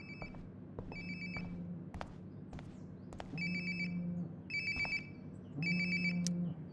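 A phone ringtone chirps in repeated bursts amid ambient game sound in Life is Strange: Before the Storm, the rings growing louder and closer over several cycles with a steady low hum beneath.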